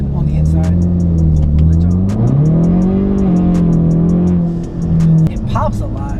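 A Ford Mustang EcoBoost with an aftermarket exhaust revving, heard from inside the cabin, its engine tone rising and falling in steady swells under ongoing talk.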